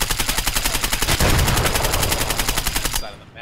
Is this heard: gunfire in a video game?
yes